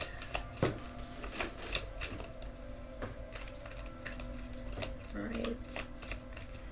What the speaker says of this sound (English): Okay, that's enough shuffling.